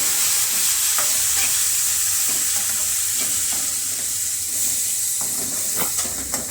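Masala with ground tomato puree and garam masala stirred and frying in a pan for a mixed vegetable curry, a steady close sizzle and hiss with scraping stir strokes throughout, no voices.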